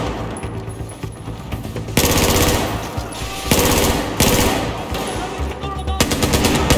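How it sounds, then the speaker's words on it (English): Rapid bursts of FAMAS rifle fire in a Battlefield 4 campaign battle in Shanghai, loud and close, with several long automatic volleys crackling one after another and a brief lull between them. "That FAMAS is way too quick."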